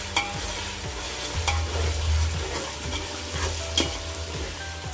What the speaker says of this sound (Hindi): इसको हमको 1 मिनट तक चलाना है, जैसे कि जिंजर गार्लिक का स्मेल चला जाए।